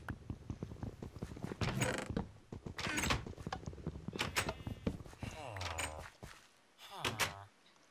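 A wooden door in the video game Avius creaks with drawn-out, groaning sweeps near the end, heard faintly under people talking.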